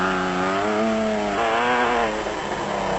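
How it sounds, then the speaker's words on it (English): Engine of a single-seater off-road race vehicle at a sugarbelt off-road race in South Africa, revving loud and close with a steady rising-and-falling engine tone that carries through the whole stretch. "Driving these powerful special off-road vehicles is never easy"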